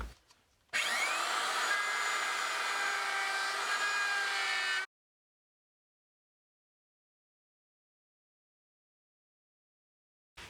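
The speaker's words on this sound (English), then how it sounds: "I will just make a tiny adjustment on the router and just freehand, just plunge it in and go around." A plunge router freehand cutting a wooden guitar body, a steady loud close high whine for about four seconds, then abrupt silence, with no talking.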